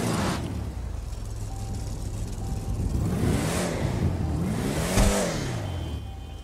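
A Vapid Desert Raid off-road truck in GTA Online, engine idling low and steady, then revving up and falling back twice in smooth sweeps, no talk.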